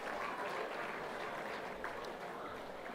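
Audience applause at a football netball league awards night honouring leading goal kickers, a steady broadband wash of clapping that holds evenly throughout without a break.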